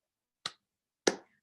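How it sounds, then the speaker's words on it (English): Two sharp hand claps from a small class group, close and crisp, the second a little fuller, separated by a brief silence with no talking. "2 claps."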